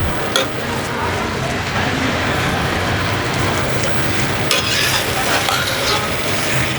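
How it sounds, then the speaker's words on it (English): Okra and aubergine being stirred in a spice paste in a pan, giving a continuous crackling sizzle with scraping and stirring textures and occasional sharper clicks, close and fairly loud. "So give it a little stir."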